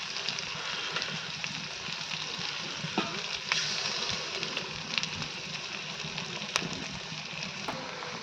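Masala spiced with chili powder and salt frying gently in a pan, giving a steady, soft, even sizzle with a few faint clicks throughout.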